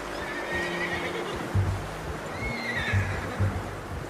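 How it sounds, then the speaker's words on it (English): A horse whinnies twice in long rising-and-falling calls, with soft hoof clops thudding underneath and no talking, in Red Dead Redemption 2. "How's that new horse?"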